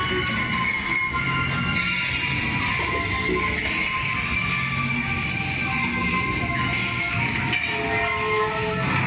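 Roger Rabbit ride vehicle at Tokyo Disneyland rolling steadily along its track, a continuous rumbling and whirring drone with no breaks, close and fairly loud throughout.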